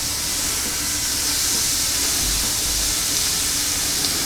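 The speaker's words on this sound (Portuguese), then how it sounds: "frigideira quente, vou levantar a chama de novo e pequenas porções, sela e reserva" Small portions of beef strips sear in a very hot frying pan over a high flame, giving a loud, steady, close sizzling hiss that runs without a break and with no voices.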